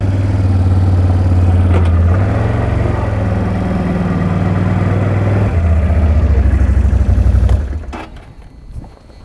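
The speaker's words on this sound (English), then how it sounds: "So let me hop on the ATV and just show you the power you have to drive up the ramps." ATV engine pulling up loading ramps onto an RV hauler, a loud close steady drone with a shift in pitch midway, dropping off abruptly near the end.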